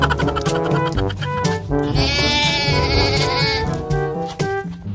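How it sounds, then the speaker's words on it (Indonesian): A toy goat gives a loud, electronic bleating call with a wavering, buzzy tone, sounding in bursts over about five seconds alongside other toy noises. "Wow, ini kambing teman-teman."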